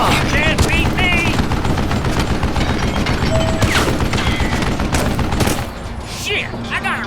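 Loud, sustained rapid gunfire rattles almost continuously in the western shooter Gun, with scattered shouted voices over it, before the shooting briefly thins out near the end.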